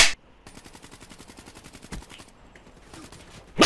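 Rapid automatic gunfire in the shooter game Black Ops 3, a fast rattling burst that runs for several seconds between louder single shots, close and sharp, with no talk over it.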